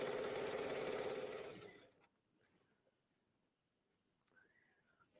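A sewing machine stitches elastic into a waistband, a fast, steady mechanical whir that runs loud for under two seconds, then cuts out, leaving faint room noise with small handling sounds.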